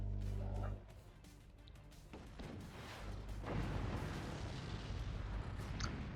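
Booming artillery cannon shots in a game, several heavy blasts with rumbling tails, a voice murmuring faintly underneath.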